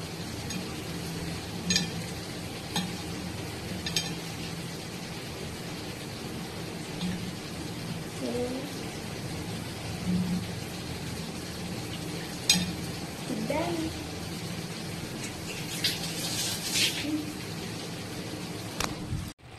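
Soaked dried fish (karuvadu) is washed and rubbed by hand in a vessel of water, with continuous close sloshing and splashing and occasional light clinks throughout.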